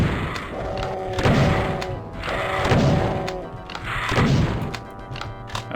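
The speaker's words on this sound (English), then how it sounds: "Go back to my shotgun to finish off the lost souls." Shotgun blasts against lost souls in Doom II (1994), three heavy booming shots about 1.5 seconds apart, each with a loud thudding attack and a ringing tail.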